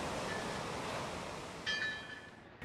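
Ocean waves roll onto the shore in a steady broadband wash of surf, with a brief higher-pitched tonal sound near the end.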